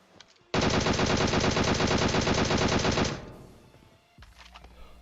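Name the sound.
gunfire in video game PUBG Mobile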